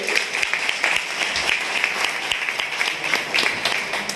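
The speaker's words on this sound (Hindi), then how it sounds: "एक बार जोरदार तालियां गोपाल जी के लिए" Dense applause fills the hall at a Delhi traders' meeting, many hands clapping together in a loud, even wash that holds steady throughout.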